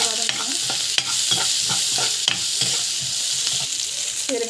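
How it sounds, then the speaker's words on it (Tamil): Chana dal, urad dal and turmeric sauté in hot oil, giving a steady close sizzle broken by repeated scraping strokes of a spoon against the pan, with no voices. "கடலைப்பருப்பு, உளுத்தம் பருப்பு, ஸோ நட்ஸு நல்லா வந்து வதங்கட்டும்."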